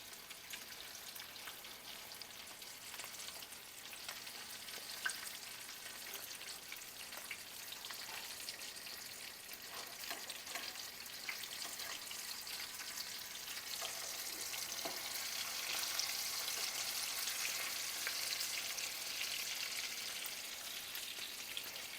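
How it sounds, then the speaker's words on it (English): Flour tortillas for chicken flautas fry in a pan with a steady, close sizzle and crackle that swells slightly toward the end, with no voices. "Now I find these flour tortillas don't take as long to cook as the corn tortillas."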